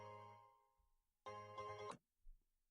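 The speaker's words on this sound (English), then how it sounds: "Oh, I'm guessing that's his phone ringing." A phone ringing in the video game Pokemon Academy Life: short, quiet synthetic electronic tone bursts separated by brief gaps, with no voices.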